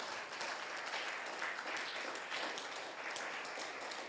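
An audience claps for five children at a children's reading event, a dense, steady wash of applause held at an even level for about four seconds, heard from a slight distance.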